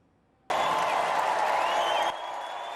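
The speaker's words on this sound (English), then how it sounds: "A roaring crowd greets former U.S. President Donald Trump as he takes the stage at the Republican National Conference in Milwaukee" A crowd at the Republican National Convention in Milwaukee erupts into loud applause and cheering as Donald Trump takes the stage, bursting in suddenly and holding steady, then easing slightly.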